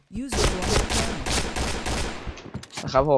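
Rapid, continuous automatic fire from an AUG rifle in the online shooter Point Blank, a loud stream of crackling shots for about two seconds that thins out before a voice speaks briefly at the end.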